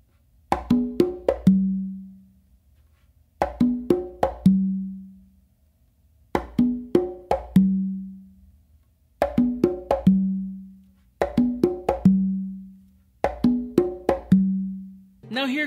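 Congas and tumba played in an Afro beat pattern by hand: repeated phrases of quick slaps and open tones ending on a deep ringing low note, six cycles in steady rhythm, close with no talk.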